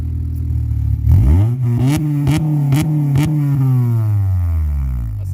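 An Acura TSX fitted with a Skunk2 Racing exhaust revs from idle: a sharp climb in engine pitch, then several quick throttle blips with a steady, fairly loud drone that slowly settles back down.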